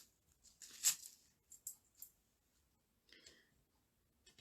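Cutters snip 0.8mm jewellery wire into lengths, giving a few sharp, faint clicks spaced across a quiet background, one louder snap early and softer ticks after, with no talking.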